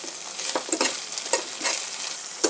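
Onion and garlic paste frying with fresh beans in a pan, a close, soft sizzle broken by repeated stirring scrapes in an uneven rhythm, no voices.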